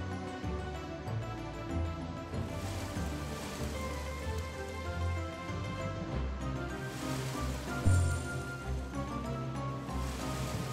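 Rain summoned in the video game SolSeraph pours as a steady, even hiss of rainfall with a soft rumbling undertone, moderately quiet and continuous, with no talking.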